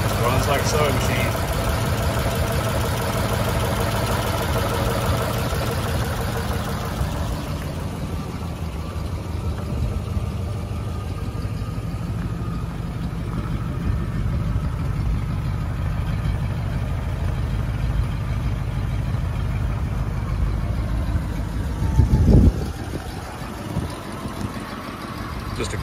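A 1941 Ford Super Deluxe Convertible idles after starting on a weak battery, a steady low rumble that runs smoothly throughout, with someone talking over it and a short thump near the end.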